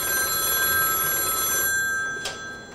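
An electronic telephone rings loudly and steadily for about two seconds, then cuts off, leaving a faint tail with a brief click near the end.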